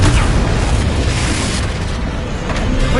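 Loud booming blast from the Confringo spell in Hogwarts Legacy, a heavy explosive rumble sustained over a few seconds with rolling low-end power, close and dominant, no voices.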